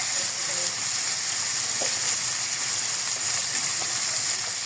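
Green peppers and hot chili dropped into a pan of frying garlic with spices, giving a steady, loud, close sizzle and hiss throughout with faint clinks over it.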